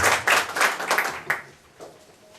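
An audience at a Turkish Republic centenary music recital claps briefly in a loose rhythm, a handful of distinct bursts that soon thin out and fade, with no voices over them.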